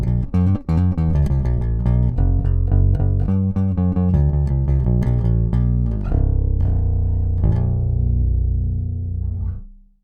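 An Ibanez SR505 bass guitar played direct into a DI gives clean, punchy plucked notes in a busy riff, then slows into a few sustained ringing notes before stopping.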